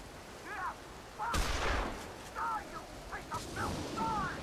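Gunfire in the zombie video game Dead Island Riptide, heard as two sharp, loud bursts spaced a couple of seconds apart, with in-game voices talking around them.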